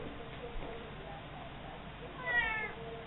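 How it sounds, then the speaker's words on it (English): A cat gives a single short meow near the end, close but fairly quiet, over a faint low background with no other clear sounds. "Yes, Kitty gives her approval"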